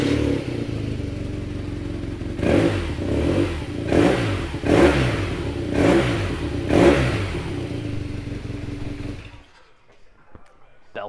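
A 2017 BMW R nineT 1200 Scrambler engine idles with a throaty rumble, then revs sharply in five quick blips before cutting off into quiet.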